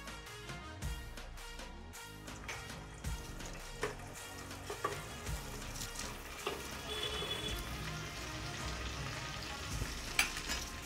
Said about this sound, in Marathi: सुरुवातीला आपण लसणीची पात घालून ती परतून घेऊया